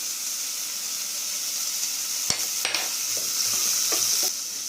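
Chopped onions and two green chillies sauté in a hot pan, giving a steady close sizzle and hiss with a few brief stirring scrapes and clinks partway through.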